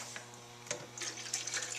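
Hot water pours onto a flat of seed-starting mix in planting cells, a soft continuous splashing and trickling with a few brief surges, close and quiet.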